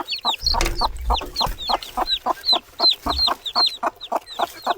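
A hen clucks steadily in a farmyard with newly hatched chicks, the rhythmic low clucks joined by high thin peeping close by, with a brief low rumble in the background.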